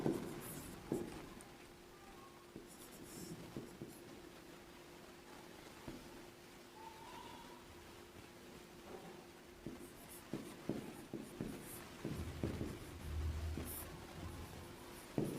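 A pen scratches and taps softly on paper while a biology diagram is drawn. The strokes are faint and intermittent over a quiet background hiss, with no speech.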